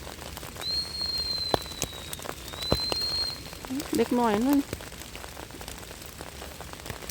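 Light rain falls in a German forest in winter, a soft continuous patter with scattered sharper drops, while a person speaks briefly partway through.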